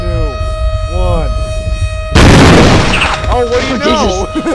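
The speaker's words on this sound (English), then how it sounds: "We're finding out if the human can get killed by an explosion in 3," A loud explosion at a gas station in a video game hits suddenly mid-clip as a broad burst, with a wailing siren before and after and talking over it.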